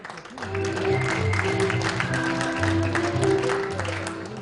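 Applause from an audience at an inauguration ceremony, a steady dense clatter of clapping that swells and holds over several seconds, with a voice speaking beneath it.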